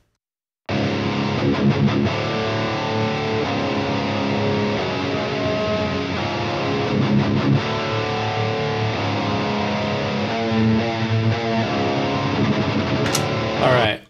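A distorted electric guitar plays heavy palm-muted rhythm riffs through a Toneforge Jeff Loomis amp plugin, loud, dense and continuous for about thirteen seconds with chugging bursts and sustained chords, no talk.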